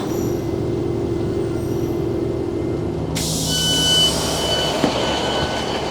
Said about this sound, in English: I tried to film the train leaving